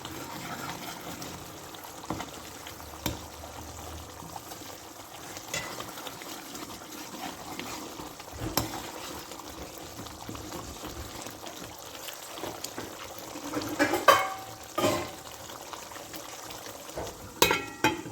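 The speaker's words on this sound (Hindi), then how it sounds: "और इसको भून लेंगे" Masala of turmeric and coriander sizzles and fries in a pan for potato egg curry, a steady low crackle with occasional stirring clatters and spatters, close and fairly quiet without talk.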